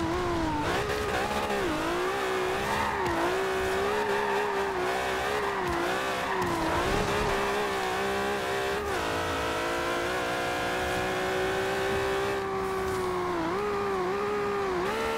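An Acura NSX in a Forza racing game, its engine revving up and down continuously with tire noise, loud and steady throughout with no talk.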